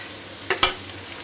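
Shrimp added to a hot pan and stirred while cooking chow mein, two quick scraping clacks of a utensil against the pan over a low sizzle, close and brief, no voice.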